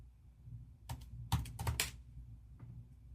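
Keyboard shortcuts are typed on a computer keyboard while music notation software is being used; a quick burst of several close, crisp key presses clusters mid-clip, followed by one faint tap, in an otherwise quiet room.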